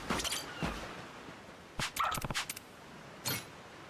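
Several dogs in a video game give short, scattered barks and yips, with a quick burst of overlapping barks in the middle and one more bark near the end.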